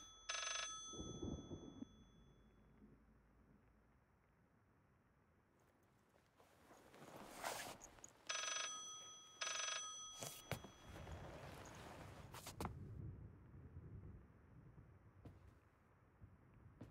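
A telephone rings in a spooky horror game with several bright, repeated electronic ring bursts spread across the clip, mixed with footsteps, creaks and low background rumble.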